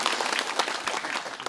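A seated audience at a talk breaks into brief, dense applause, many hands clapping together in a close, bright wash that holds steady for a moment.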